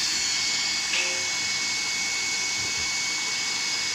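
An angle grinder cuts a metal fan part for an LED headlamp, giving a loud, steady, high whine that runs unbroken from start to finish at close range.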